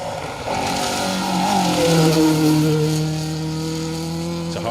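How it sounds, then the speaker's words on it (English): A 2-litre Ford Escort rally car at full throttle on a forest stage, its engine note swelling loud and close as it rises through the revs, then easing and fading slightly as it passes by. "a hard-charging Ian Evans and Justin Brooks in their 2-litre Escort, using every inch of the road here and just about getting away with it"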